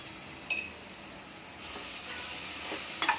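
Red chili, coriander powder and cumin powder are stirred into ridge gourd curry in a pan, giving a soft, steady sizzle broken by a few sharp clinks of the spoon against the pan.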